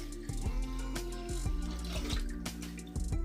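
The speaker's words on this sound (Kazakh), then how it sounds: "Қазанымызға суды құйдық." Water pours into a cooking pot for rice milk porridge in a continuous, close stream, with rhythmic gurgling splashes and hollow resonant tones as the pot fills.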